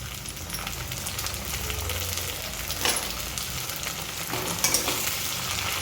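Tomatoes fry in a pan with mustard seed, cumin, garlic and green chillies for a fish curry, giving a steady loud sizzle with a few stirring scrapes and clatters.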